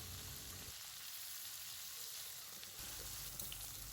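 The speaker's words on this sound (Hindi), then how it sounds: "तकरीबन 7 से 8 मिनट लगेंगे भिंडी फ्राई होने में।" Okra pieces frying in hot oil, giving a steady, close sizzle with a watery hiss that runs without pause and grows a little louder near the end, with no voices.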